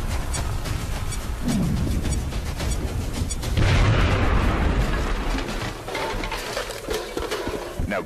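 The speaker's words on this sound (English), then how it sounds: "Now toss your grenade at the enemy in front of you." A grenade blast in an animated sci-fi action battle: a loud, close boom with a rumbling tail rises out of dense, continuous gunfire and combat noise.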